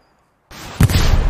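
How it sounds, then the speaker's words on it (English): A grenade blows up in the World War II shooter Hell Let Loose: after near-silence, a single sharp close blast erupts, followed by a sustained loud rumbling roar of battle noise. "I'm going to throw a grenade, in fact."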